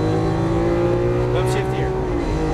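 A Lamborghini Aventador LP700-4 accelerates on a race track with a loud, sustained engine tone that rises slightly in pitch, while a person talks over it.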